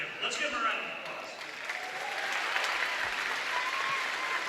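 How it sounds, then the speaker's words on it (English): Applause from an audience for the 2013 Kasson-Mantorville state champion baseball team, a steady wash of clapping that runs the full length at a moderate, somewhat distant level, with crowd murmur mixed in. "Let's give them a round of applause."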